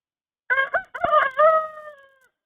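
A guinea fowl on an off-grid homestead gives a single loud, drawn-out call with a few broken opening notes, close by and alone in otherwise quiet surroundings.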